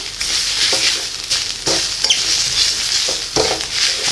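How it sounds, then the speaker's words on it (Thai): Stir-frying preserved radish with egg in a pan, a steady close hiss with repeated scraping strokes of a utensil against the pan, no voices. "ผัดให้เข้ากันเลยนะครับ"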